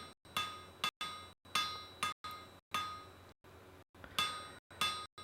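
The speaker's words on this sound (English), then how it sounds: "start forging out quite a shallow taper on the end there" Hammer blows on an iron chain hook at welding heat, drawing out a shallow taper: sharp, ringing metallic clangs in steady groups of two or three strikes with brief pauses, close and loud with no voices.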